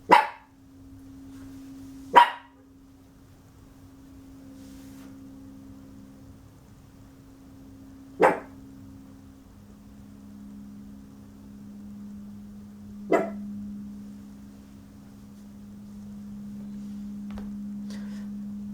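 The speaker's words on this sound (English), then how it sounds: "So sorry about my dog" A dog barks indoors in four sharp, separate yelps spread several seconds apart, each loud against a quiet room with a steady low hum.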